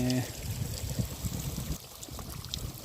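Water from a running motor pump flows and splashes steadily at close range, a soft continuous pouring sound, with brief talk at the start.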